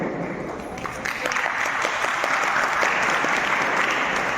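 Students applaud in a room, clapping that swells from scattered hands into loud, sustained applause close to the microphone, with no speech over it.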